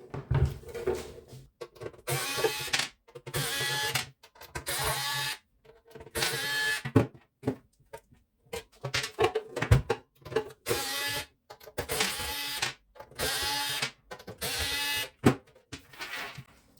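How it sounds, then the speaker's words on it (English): Screws being undone on a Parkside PPS 40 B3 plasma cutter casing, heard as repeated bursts of close, gritty scraping and turning with short gaps between them, and no talk. "to open this plasma cutter we need to remove 4 screws and another 4 screws from this side"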